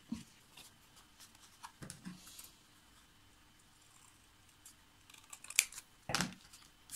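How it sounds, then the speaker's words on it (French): Scissors cutting paper for a scrapbooking pop-up card, a few faint, sparse snips and rustles scattered across a quiet stretch, with a sharper cut near the end. "Ensuite, vous allez couper."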